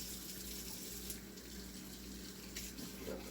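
Kitchen tap runs steadily into a sink while water is brought to room temperature for cooking, a continuous close hiss with faint clinks, no talking.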